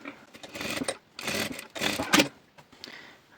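Sewing machine stitching a fabric headband, close and fairly quiet, running in short bursts of rapid mechanical whirring separated by brief pauses.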